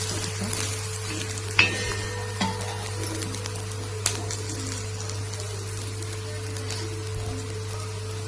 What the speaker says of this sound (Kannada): ಈಗ ತಿರುವಾಕ್ತೆ ಮತ್ತು ಎಣ್ಣೆ ಹಾಕ್ತಾಯಿದ್ದೀನಿ.